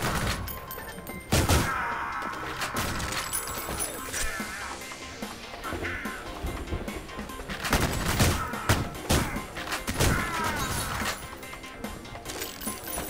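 Enemy machine gun fire in the shooter Ion Fury, bursts of rapid gunshots with clanking mechanical impacts and crashes, loud and close, mixed with other game effects.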